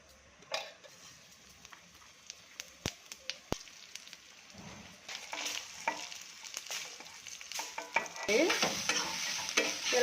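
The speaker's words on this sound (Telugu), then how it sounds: "ఎండుమిర్చి, ధనియాలు, అల్లం ముక్క, తెల్లుల్లి, కొద్దిగా జీలకర్ర వేసి వేపుకుందాం" Dry red chillies, coriander seeds, a piece of ginger, garlic and a little cumin frying in a spoon of oil for a mutton curry masala, a crackling sizzle with stirring clatter that starts faint and grows louder and denser toward the end.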